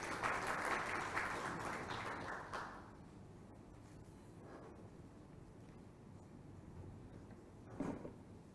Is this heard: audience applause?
yes